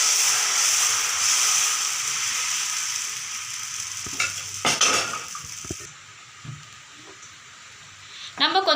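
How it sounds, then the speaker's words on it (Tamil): Dosa batter made with mudakathan greens is poured onto a hot pan and sizzles steadily and loudly up close, with a few metallic utensil clinks near the end. "இப்போ நம்ம தோசை ஊற்றிடலாம்."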